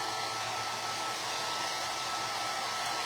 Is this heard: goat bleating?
no